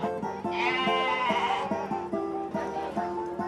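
Cheviot sheep bleating repeatedly, loud and close, with wavering cries overlapping against a busy background of livestock and people.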